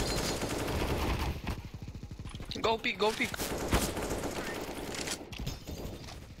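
Gunfire in a video game as a player sprays doors, rapid bursts of shots behind excited players talking over voice chat.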